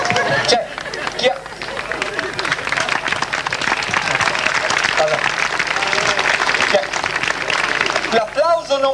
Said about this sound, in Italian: mi ero spaventato perché sentivo che applaudivate una alla volta